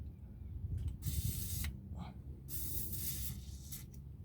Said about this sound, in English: take some grease or WD-40. I do this every time. Spray a little down in the hole.